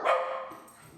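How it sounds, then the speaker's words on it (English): Dogs let out a single loud, close bark that tails off quickly, with faint background noise after. "Those dogs."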